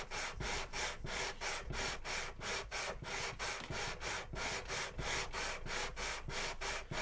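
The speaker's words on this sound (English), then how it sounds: "Most of my sanding is gonna happen to the first three frets." Rhythmic back-and-forth scratchy rasping of sandpaper rubbing on the first three frets of a guitar neck, about three strokes per second, steady and close with no talking.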